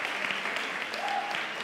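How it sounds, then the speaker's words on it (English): Church congregation at a Sunday morning service giving a round of hand claps in encouragement: a dense, continuous wash of applause filling the room, even and sustained throughout. "Give them a big hand clap to encourage them."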